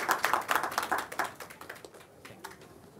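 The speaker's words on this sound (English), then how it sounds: "Can I have a round of applause for our speakers, please?" An audience at a design conference technology breakout session gives short applause for the speakers, a loose patter of claps that starts strong and thins out to scattered claps.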